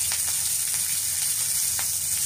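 Curry leaves crackle and sizzle in hot oil with asafoetida, a steady close frying hiss running throughout with a few brighter pops, no talk.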